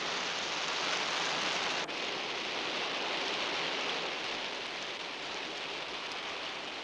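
Steady rain pours down in a Hindi action film scene, a dense continuous hiss that holds at an even level from start to finish with no voices.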